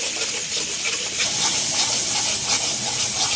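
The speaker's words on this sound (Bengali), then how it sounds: "আদা রসুন বাটা দিয়ে দিলাম, লাল লঙ্কা দিয়ে দিলাম। ভালো করে মশলাটা কষিয়ে নেব।" Ginger-garlic paste, turmeric and red chilli fry in a pan for a biryani masala, giving a loud, continuous close hiss and sizzle with no talking.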